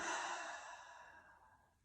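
A slow, audible exhale through the mouth during a chair yoga breathing exercise, a soft breathy rush that starts strong and fades gradually over about two seconds, heard alone without talk.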